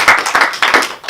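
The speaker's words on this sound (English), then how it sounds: "I think another round of applause." Applause from a small audience after a final project presentation, a few people clapping in a brief irregular burst of close, sharp handclaps.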